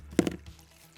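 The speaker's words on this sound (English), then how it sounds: "Water's going everywhere." Water pouring and splashing into a plant container, a brief close splash and gurgle followed by quieter trickling and a soft thud near the end.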